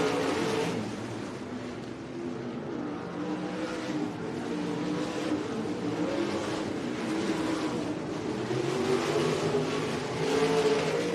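ASCS sprint cars race on the dirt oval at El Paso County Raceway, their engines roaring steadily at a distance with rising and falling revs as the pack circles, with no break in the noise.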